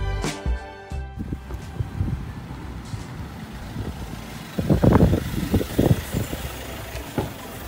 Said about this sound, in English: And there's a bus coming.